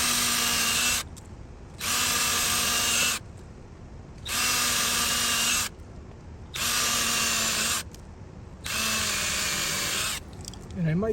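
Power driver sinking screws into a wooden fence door, five loud bursts of whirring motor each lasting about a second, separated by short pauses, close up with no talk in between.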